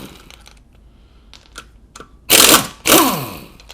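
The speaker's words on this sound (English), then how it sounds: "I'll take off a couple of lugs with my old wrench" A half-inch pneumatic impact wrench, an older unit run on compressed air, loosens lug nuts in two loud close hammering bursts, each under a second, after a few faint clicks and handling noises.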